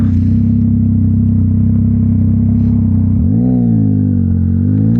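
A Yamaha MT-09 motorcycle with a Mivv X-M50 exhaust idles loud and close with a deep steady rumble, then blips the throttle into a rising rev near the end.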